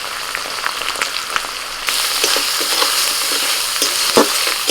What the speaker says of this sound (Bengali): মশলাটা খানিক্ষণ কষিয়ে নিয়েছি একটু তেল ছাড়া হয়ে গেছে